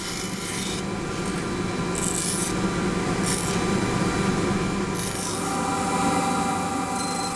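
A buffalo horn eyeglass frame being ground out on a grinding machine, giving a steady close rasping, rubbing grind that runs unbroken throughout with brief brighter hissy bursts.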